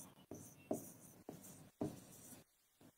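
A pen or marker writing on a board during an English revision class makes several short, crisp scratching strokes close by in quiet surroundings, with brief pauses between them.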